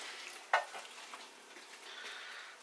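Buffalo wings turned by hand in sauce partway through oven baking, a soft wet sizzle with one sharp tap of utensil or dish early on, then low steady frying texture, fairly quiet.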